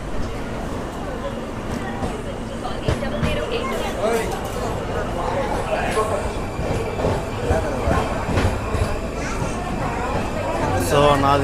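Pinakini SF Express, an LHB-coach train, pulls out of platform 3 at Nellore station, a steady rumble of wheels and carriages under a busy crowd murmur throughout.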